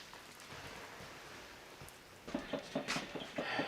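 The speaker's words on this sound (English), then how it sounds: "It is raining ice." Freezing rain in an ice storm at an off-grid cabin, a faint hiss of falling ice that turns into a patter of irregular crackling ticks and clatters in the last second and a half.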